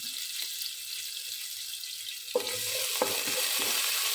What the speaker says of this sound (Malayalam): നന്നായിട്ടൊന്ന് വറുത്തെടുക്കണം